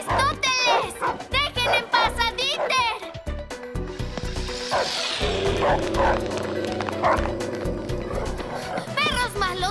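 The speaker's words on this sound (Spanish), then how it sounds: "¡Perros malos, vengan acá!" Cartoon dogs bark in Transformers: Rescue Bots. Short yapping barks mix with character voices and a busy animated soundtrack.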